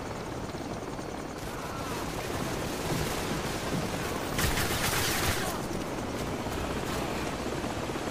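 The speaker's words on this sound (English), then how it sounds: "Sir, we've got company. Helicopter troops closing in fast." Helicopter rotor wash and bursts of gunfire in the video game Call of Duty 4, a dense, loud roar of blades with scattered rattling shots layered over it throughout.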